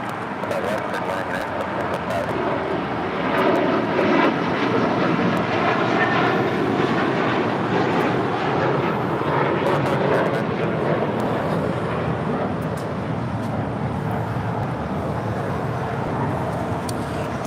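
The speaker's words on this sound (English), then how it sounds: "That is American Airlines 1974 taking off to Dallas-Fort Worth on a 9-year-old A321 in the PSA retro livery." An American Airlines Airbus A321 jet in PSA retro livery takes off from LAX, its continuous broad engine roar swelling slightly midway and staying loud to the end.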